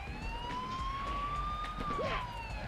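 Wailing siren in the PS1 video game Spider-Man 2, a steady tone that slowly rises and falls under a constant background hum, with a brief extra chirp near the end.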